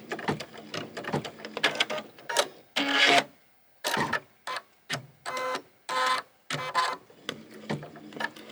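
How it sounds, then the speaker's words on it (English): An embroidery machine stitching out skirt panels: quick mechanical bursts of needle stitching and whirring carriage moves, separated by short pauses, close and fairly loud with no speech. "all while the embroidery machine continues stitching out on the skirts"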